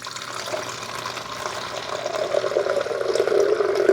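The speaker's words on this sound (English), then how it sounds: "Now we need to dump the water back here where it goes for the coffee." Water from a glass carafe is poured into the reservoir of a Cuisinart SS-15 coffee maker, a close, steady gurgling splash that grows slightly louder and fuller as it continues.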